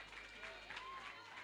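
Audience clapping and cheering for contestants at a family competition show, a faint, distant crowd wash of claps and cheers under a speaking voice, steady throughout.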